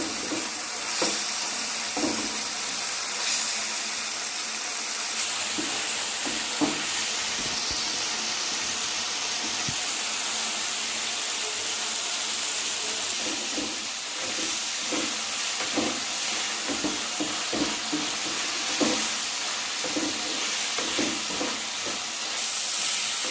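Prawns sizzle and hiss steadily in a hot pan for a long stretch, with scattered scrapes and knocks of a spatula stirring them, loud and close with no talk.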